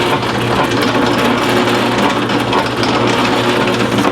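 A drill press fitted with a 1/16 inch bit runs steadily, a continuous motor whir and whine with no pauses, close and fairly loud.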